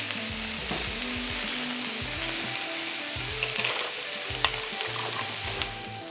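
Italian sausage and vegetables sizzle on a hot, fast-cooking poolside griddle, a steady close crackle with spatter running throughout and occasional stirring clinks.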